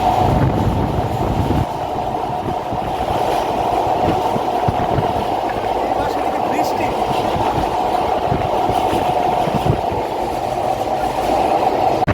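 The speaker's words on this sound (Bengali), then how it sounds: "পদ্মা সেতুতে ট্রেন চলে একদম হাই স্পিড" A train crosses the Padma Bridge in Bangladesh at high speed, rumbling steadily with a constant droning hum and rhythmic rattling of wheels on track, loud and close throughout.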